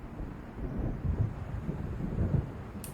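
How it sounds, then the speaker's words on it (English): Low rolling thunder of an approaching storm in the video game Alan Wake, a steady distant rumble with swelling surges and no voices. "It seems there's a storm coming."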